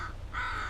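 A crow gives a couple of harsh caws at close to middle distance, the second call longer and louder, over a faint low background hum.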